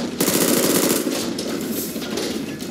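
Rapid automatic gunfire from the Killing Floor 2 video game, loud, dense and unbroken throughout, no speech over it.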